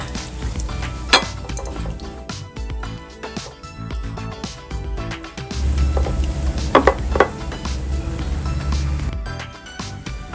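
Stir-fried pork with fresh chili is scooped from a pan onto a plate, with a spatula scraping and clinking on metal over a soft sizzle and occasional clatter of cookware, close and fairly loud, no talking.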